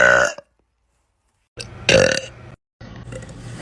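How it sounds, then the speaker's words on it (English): One loud, close burp with a raspy middle rings out after a brief word and a stretch of silence, followed by faint background noise. "I had a burp, okay?"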